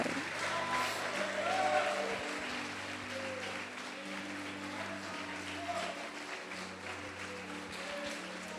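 A church congregation clapping and cheering during a service: a sustained wash of applause from a large crowd in a hall, with music and voices underneath.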